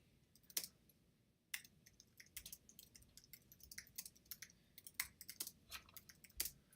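Computer keyboard typing during a ranked Town of Salem game, quiet bursts of key clicks in an irregular rhythm that pauses and then resumes, with no voice.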